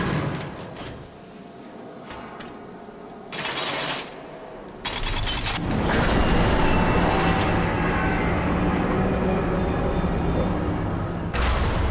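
Train car on a rotating turntable platform in the PC game Darksiders Warmastered Edition, heard as loud mechanical rumbling and grinding that swells midway and runs steadily to the end, with no voices.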